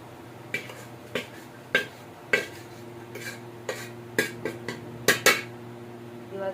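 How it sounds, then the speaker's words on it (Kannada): A metal spoon mixes masala chooda, a spiced puffed-rice snack, in a bowl, making about a dozen sharp, close clinks and scrapes in an uneven rhythm over a low background hum. "2 ಚಮಚ ತೊಗೊಂಡು ಮಿಕ್ಸ್ ಮಾಡ್ಕೊಳತ್ತೀನಿ ನೋಡ್ರಿ"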